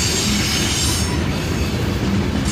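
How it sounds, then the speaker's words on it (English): A freight train passes close by in snowy weather, a loud continuous roar of rolling cars with squealing wheels and steady clatter, with no voices. "Oh look, there's the end of the train."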